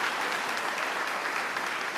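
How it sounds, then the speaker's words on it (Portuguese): Steady, dense applause from a church congregation at a morning Pentecostal worship service, filling the room evenly and continuously with no voices standing out. "Vamos aplaudir a Jesus,"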